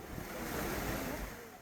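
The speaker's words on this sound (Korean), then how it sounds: "시원한 계곡 물소리를 따라 걷기에 너무 좋네요." Steady rushing water of a mountain valley stream with a broad hiss, continuous and fairly close, with no voices.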